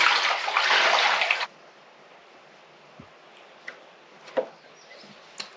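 Water rushes loudly into an underfloor heating system for about a second and a half, then cuts off, leaving a quiet background with a few faint knocks and clicks.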